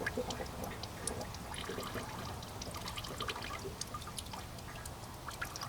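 Maple sap pours in a steady stream into a tank, a continuous soft trickling and splashing of liquid with no talking.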